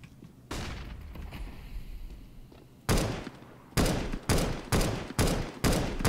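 Gunshots ring out in a CS:GO competitive match: a spread of shots early on, then a series of sharp, loud blasts fired in quick succession at close range.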